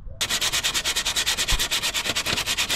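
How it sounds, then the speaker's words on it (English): Steady back-and-forth rasp of sandpaper rubbed by hand over rusty metal on a 2008 Smart Fortwo 451, close and loud, with an even rhythm of about eight strokes per second and no talking. "good old-fashioned sandpaper. It's harder work, but it's doing the trick."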